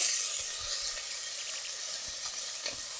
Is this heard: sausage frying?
yes